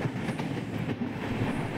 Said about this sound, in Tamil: இப்படி ஒரு ட்ரெயின் ரன் ஆகிட்டுருக்குது